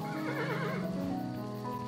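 A horse whinnies in the side-scrolling strategy game Kingdom: New Lands, one long wavering neigh followed by soft hoof clip-clops, moderately loud over a faint steady background, with no speech.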